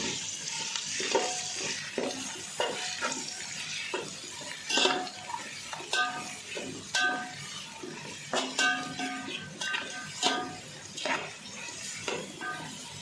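About 400 grams of onions with cloves and salt are stirred in a hot pan for chicken biryani, with spatula knocks and scrapes in uneven bursts over a soft frying sizzle.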